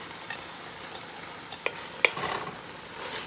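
Julienned cabbage fries in a pot over lowered heat for a chicken and cabbage casserole, giving a soft sizzle broken by a few stirring scrapes and clinks.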